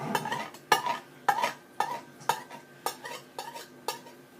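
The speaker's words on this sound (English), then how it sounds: "I'll get my knife and I'll do a quick trim" A knife trims the pastry edge of a large 18-inch apple pie, making a steady series of about nine light, close tapping cuts against the dish, evenly spaced roughly half a second apart with no talking.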